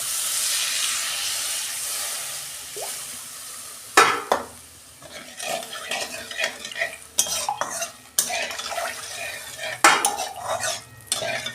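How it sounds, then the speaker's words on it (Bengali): Water splashes into sizzling masala for a Bengali pabda fish curry: a steady fry hiss, then a sudden loud burst of spitting steam, followed by clinking spoon stirs and pan scrapes, close and with no talking. "পরিমাণ মতো জল দিচ্ছি।"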